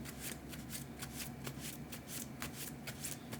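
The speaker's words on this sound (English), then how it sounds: "I'll shuffle my deck." Soft, rapid riffling of a deck of game cards being shuffled during a tabletop card game, a steady run of quick papery flutters, close and quiet with no voices.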